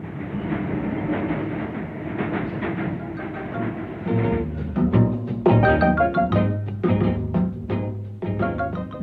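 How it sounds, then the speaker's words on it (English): British-built locomotives haul a goods train in New South Wales, a rolling rumble giving way to rhythmic clickety-clack of wheels and metallic clanks, fairly loud and continuous with no voices. "British-built locomotives in New South Wales. These may well be hauling goods destined to go to Britain in return."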